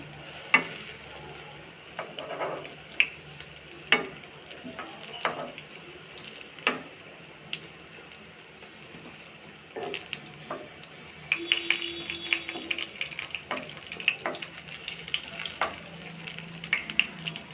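Besan fritters frying in oil in a large karahi, a steady low sizzle broken by scattered sharp clicks and clatters of a utensil against the pan, with busier stirring near the end.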